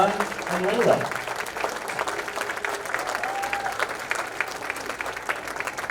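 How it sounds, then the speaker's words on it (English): Sustained applause from a school concert audience for the sixth-grade chorus and soloists at a winter concert, steady dense clapping filling the room throughout, with a voice briefly heard over it near the start. "one last round of applause to our chorus and to our soloists"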